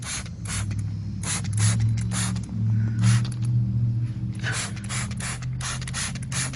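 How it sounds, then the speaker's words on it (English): Repeated short sprays of S100 Total Cycle Cleaner hiss from a trigger bottle onto a bicycle in quick bursts, with mechanical clicks and a low rumbling hum underneath. "Spraying it liberally."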